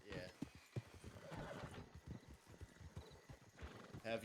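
Steady clip-clop of hooves with a horse whinnying, under near-constant talking and game ambience.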